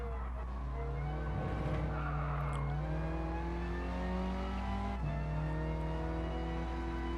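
A race car in Gran Turismo Sport drifts through a turn, its engine droning loudly while tyres squeal and skid. The pitch sweeps up and down as it slides, with a brief sharp shift near the end, and no voice is heard.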